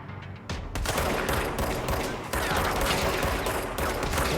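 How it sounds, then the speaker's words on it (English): In the action game Control, shotgun blasts go off loud and close, a rapid run of heavy booming shots piling over one another with a short break near the start. "Shotgun's brutal."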